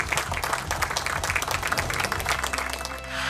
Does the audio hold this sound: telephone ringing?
no